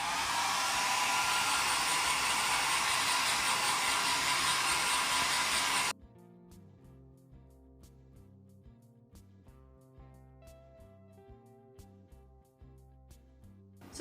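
A Philips HP8100/60 hair dryer runs loud and steady on low temperature for about six seconds, then cuts out abruptly, leaving quieter background music.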